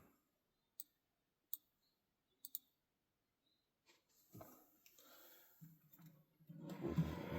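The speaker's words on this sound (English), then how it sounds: "Keyboard." A few separate, crisp clicks of computer keyboard keys being pressed in a quiet room during setup of controller-testing software, followed by louder rustling and handling noise.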